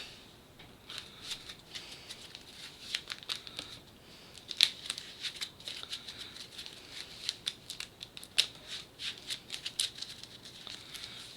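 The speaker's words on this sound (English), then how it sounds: "To shuffle the villain deck." Cards of a tabletop card game's villain deck are shuffled by hand, giving a fast, crisp patter of riffling and sliding card edges in uneven bursts, close and fairly quiet.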